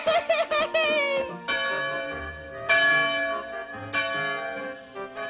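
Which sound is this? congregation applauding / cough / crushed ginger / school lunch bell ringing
school lunch bell ringing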